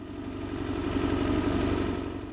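A motorcycle arriving at the Westerschelde tunnel toll gates, its engine running in a steady mid-pitched idle-like drone with a low rhythmic pulse, close and even throughout with no talk.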